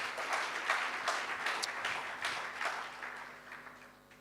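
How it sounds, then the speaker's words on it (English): An audience at the Open Source Community Africa OSCA 2022 gathering applauds its organizers, a quiet, somewhat distant patter of many hands clapping that swells slightly then gradually fades out. "So a round of applause for OSCA organizers."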